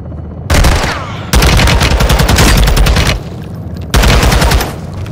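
Heavy helicopter gun-run fire in Call of Duty: Modern Warfare II, with loud sustained bursts of rapid machine-gun rounds separated by short lulls and a fresh burst near the end.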